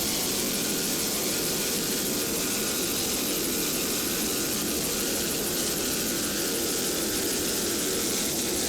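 Class 3 racing powerboats roar past at speed off a beach, a loud, continuous engine drone with broad wind and water hiss that holds steady throughout.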